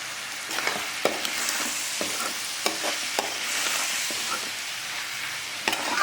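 Pirandai chutney ingredients sautéing with asafoetida in a pan: a steady close sizzle runs throughout, broken by sharp clicks and scrapes of a spoon stirring, with no talk.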